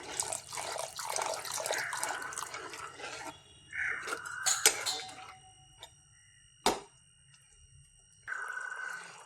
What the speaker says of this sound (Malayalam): ഇതിലേക്ക് കുറച്ച് വെള്ളം കൂടി ചേർത്ത് കൊടുക്കാം